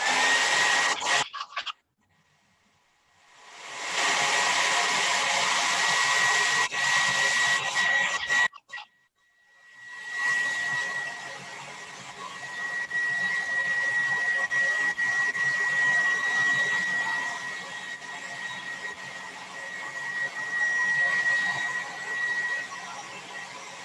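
A hair dryer blows on an earth clay mandala, a steady close whooshing hum that starts and stops twice, then runs continuously for the remaining stretch without speech.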